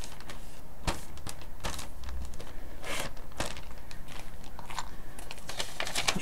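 Lego pieces being taken out of a plastic bag, close crinkling of the bag and scattered clicks and rattles of small plastic bricks in irregular bursts, fairly quiet with no talking.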